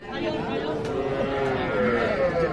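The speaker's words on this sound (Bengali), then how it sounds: "এই পাশে কিছু ছোট ছোট বাছুর দেখছি আমরা" Calves mooing close by at a cattle market, drawn-out low calls over a busy background of murmuring voices and farm noise.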